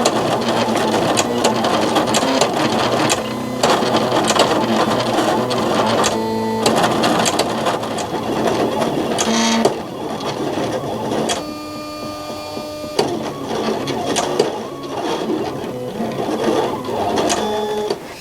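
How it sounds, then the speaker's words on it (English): A Silhouette CAMEO cutting machine slices heat transfer vinyl, its carriage motor whirring in steady, shifting runs with brief pauses and pitch changes, close and fairly loud throughout, with no talking. "I already have my vinyl loaded into the Silhouette CAMEO, so I'm going to go ahead and send my design to cut."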